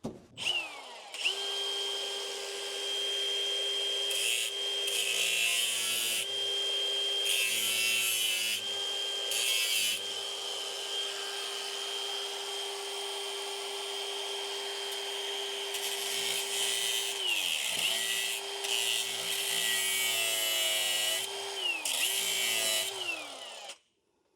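A power tool cuts into the interior of an early second-generation Camaro during a center console retrofit, its steady high whine running nearly continuously for over twenty seconds with brief pitch drops and a few short interruptions.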